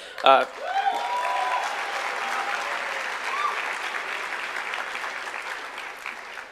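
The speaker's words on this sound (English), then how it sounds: "So again, a big round of applause for them." Sustained audience applause fills a university lecture hall at a campus talk, dense steady clapping that swells after a sharp onset and holds evenly throughout.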